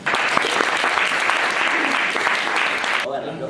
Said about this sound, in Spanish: Así que un aplauso para Fernando.